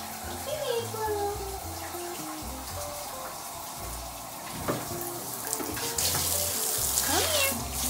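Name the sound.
tap water running into a bathtub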